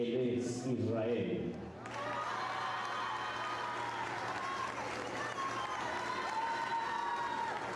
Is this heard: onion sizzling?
no